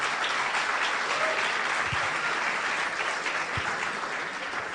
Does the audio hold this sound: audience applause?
yes